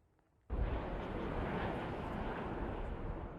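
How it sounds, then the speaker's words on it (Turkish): Airplanes taking off, heard as a sudden loud rush of jet engine roar after a quiet moment, then a sustained broad rumble close by. "İngiltere, Almanya, Fransa ve Belçika'dan uçaklar ardı ardına kalkıyor."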